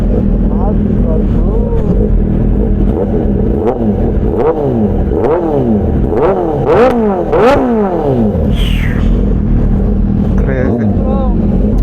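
A Suzuki Hayabusa motorcycle fitted with a Dynojet Power Commander 6 runs loud and close, its engine repeatedly revving up and dropping back in rising and falling sweeps over a constant rumble.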